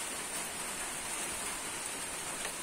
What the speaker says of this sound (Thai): ว่าฝนตกมันติดต่อกันเนี่ยอาทิตย์กว่าแล้วนะครับ